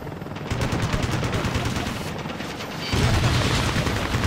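Heavy automatic gunfire in a combat mission of the video game Ace Combat: Assault Horizon, a dense continuous rattle of shots that swells louder near the end.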